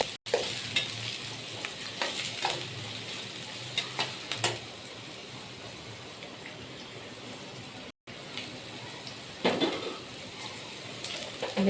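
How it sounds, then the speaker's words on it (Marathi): Onions and green chilies fry and sizzle in a pan as poha is made, with a steady broadband hiss and repeated scraping stirs throughout, close and moderately loud, with one brief dropout. "कांदे थोडे ब्राऊन कलर झाला का लगेच मिरची टाकू."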